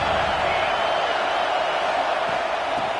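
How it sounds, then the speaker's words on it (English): Steady roar of a stadium crowd in a college football video game, SEC matchup with Tennessee against South Carolina, a dense, continuous wash of cheering that stays loud and unbroken throughout. "this crowd trying to help keep them there"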